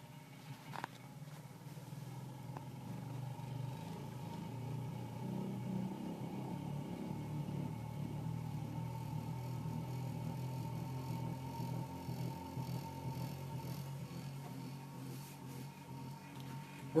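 A Bedini SG energizer rotor, a hand-built magnetic motor, spinning up on a workbench, giving a steady low hum and whir that holds constant and faint throughout, with a brief click near the start.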